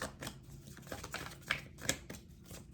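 Oracle cards riffle and slap together in quick rustling bursts, close and fairly quiet, with no talking.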